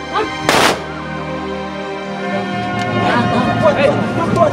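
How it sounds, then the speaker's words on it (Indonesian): A single sharp, loud ceremonial gun salute rings out early at a military funeral, followed by a crowd murmuring and scattered voices in the background. "Dihantar dengan tembakan salvo, jasad Luki yang dibungkus peti mati"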